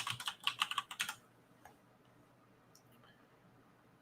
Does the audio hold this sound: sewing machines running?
no